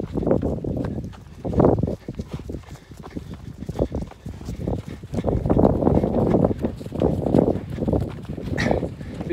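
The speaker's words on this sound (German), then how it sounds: "Die Galloway Mutterkühe. Ja, die können rennen wie Pferde." Herd of Galloway suckler cows running across a pasture, a steady rumble of heavy hoofbeats thudding on turf, rising and falling as the animals pass close by.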